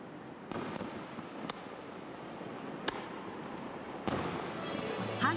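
Fireworks bursting over a town at night, several sharp distant booms spaced a second or so apart over a steady crackling wash and crowd murmur.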